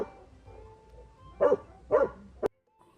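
A dog barks twice in quick succession, then lets out a shorter clipped bark, moderately close over soft background music that briefly cuts to near silence.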